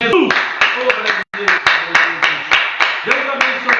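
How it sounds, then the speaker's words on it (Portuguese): A church congregation clapping for Jesus, loud rhythmic hand claps in a steady beat at close range, with voices singing or speaking underneath and one brief dropout. "Uma forte salva de palmas a Jesus."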